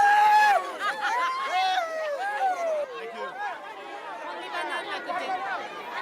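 A lively crowd of Papuan Highlanders in the mountains of Papua New Guinea, with many voices overlapping in a chattering, sing-song babble at close range and one voice rising clearly above the rest at the start.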